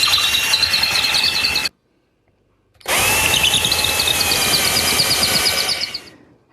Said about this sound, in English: I just clamp it in place and drill the holes